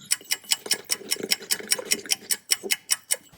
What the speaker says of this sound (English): So just whisking it up, just having a nice whisk party.